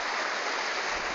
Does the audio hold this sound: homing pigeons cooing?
no